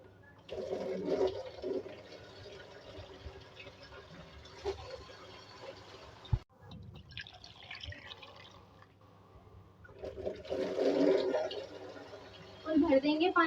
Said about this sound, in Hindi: अब इसमें हम पानी डालेंगे फुल भर के।